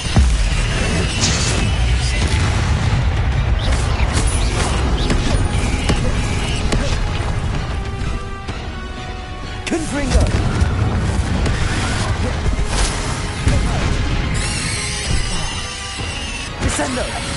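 Blasting Confringo spell explosions boom and crash repeatedly in Hogwarts Legacy amid combat clatter, loud and dense, with a voice calling out spell names over the blasts.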